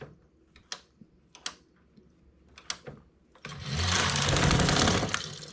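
A knitting machine carriage is drawn slowly across the needles, first as a series of sharp, spaced clicks, then as a dense, loud rushing clatter through the last couple of seconds; no talking.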